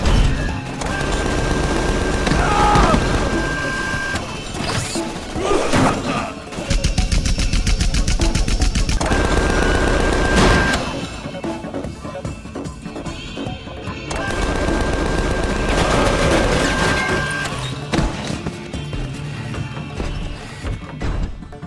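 Sustained automatic gunfire from a firefight in Tales from the Borderlands, loud, dense volleys roaring for long stretches, with brief lulls, crashes and impacts mixed in.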